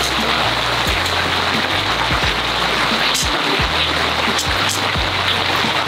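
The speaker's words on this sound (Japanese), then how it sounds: "いや、雨いいな。 久々の雨キャンプだね" Rain falling at a campsite, a dense, steady hiss of drops close by that fills the whole stretch with no one speaking.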